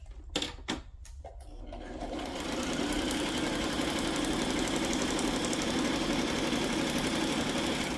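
A sewing machine starts after a few clicks and then runs steadily, whirring close by as it stitches through a handmade paper flip flop journal.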